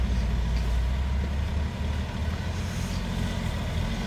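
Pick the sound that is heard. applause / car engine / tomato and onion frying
car engine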